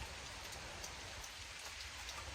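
Rain falls steadily beside a clear stream, a soft, unbroken hiss of drops with no voices, faint and even throughout.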